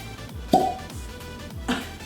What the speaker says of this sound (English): That was probably the loudest rum bottle that I've opened.